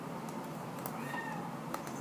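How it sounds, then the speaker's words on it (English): A pet cat cries faintly from another room, a few soft meows barely rising above a steady background hiss. "I hear my baby kitty crying in the other room."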